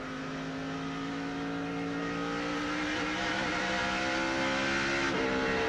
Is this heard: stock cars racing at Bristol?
yes